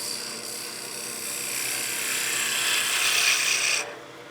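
A wood lathe turns a Christmas gnome as a tool removes material, giving a close, continuous scraping rasp that builds gradually and then cuts off near the end.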